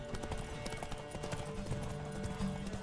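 Horse hooves clip-clopping in the video game The Witcher 3, a steady quiet trotting rhythm beneath faint background sound.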